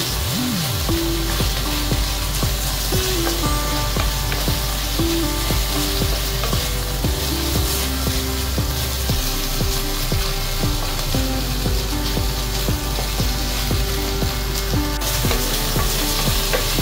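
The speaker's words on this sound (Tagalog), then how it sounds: "Ganito na po yung pagka-stir fry ng ating chicken." Chicken and broccoli stir-frying in a pan, a dense, steady sizzle running throughout with scraping and stirring clatter on top.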